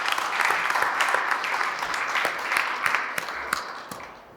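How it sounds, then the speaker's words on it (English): Audience applause at an annual meeting, a steady wash of many hands clapping throughout, fairly close and full, with no talk over it. "Let's give them a round of applause."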